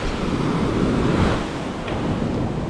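Small ocean waves on the beach at Senggigi, Lombok, a broad steady wash of surf mixed with heavy wind buffeting the microphone, continuous and fairly loud.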